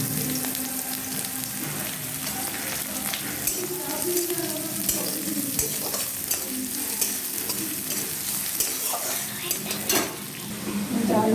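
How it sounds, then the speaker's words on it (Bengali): Beetroot, peas and chopped coriander fry in a wok with steady loud sizzling, while a utensil stirs and scrapes against the pan throughout. "এবার এগুলো সব আমি ফ্রাই করে নেব"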